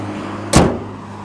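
A Renault Clio RS car door shuts once with a single close, solid thud, alone against a quiet background hum.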